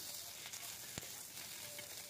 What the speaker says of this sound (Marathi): आता ह्या तव्यावरती हलकेसे डाग पडूपर्यंत मिरच्यांवरती अशा पद्धतीने आपण भाजून घेऊया